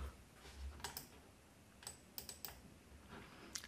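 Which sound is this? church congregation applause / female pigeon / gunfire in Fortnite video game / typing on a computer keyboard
typing on a computer keyboard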